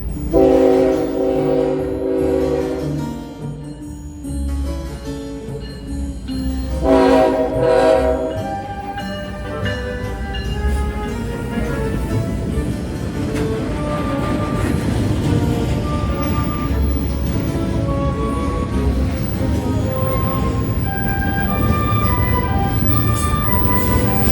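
A Union Pacific welded rail train passing, its horn sounding loud blasts at the start before giving way to a building, steady rumble and rattle of rail cars rolling by close and continuous.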